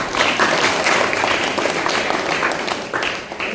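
A school crowd applauds a student at a college notebook-distribution event, dense steady clapping from many hands that fills the whole stretch at close range and fades slightly toward the end.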